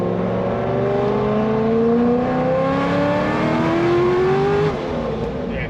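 A 950-horsepower supercharged LS3 Corvette pulls hard at full throttle in third gear from a rolling start, its loud engine note and supercharger whine climbing steadily in pitch for several seconds before easing slightly at the end.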